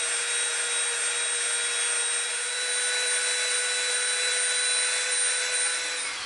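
A rotary tool fitted with a smoothing bit runs along an EVA foam seam, giving a steady, high-pitched whine that holds unbroken and loud throughout, with no voices.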